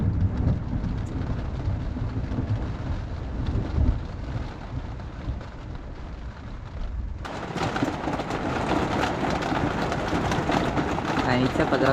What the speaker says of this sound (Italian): iniziato a grandinare.